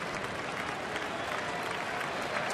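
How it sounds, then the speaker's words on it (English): Baseball stadium crowd at a Diamondbacks at Brewers game in Milwaukee, 2011, applauding steadily and encouraging a struggling pitcher, a dense, continuous wash of clapping with a faint murmur of voices. "Respectful crowd trying to help him through it."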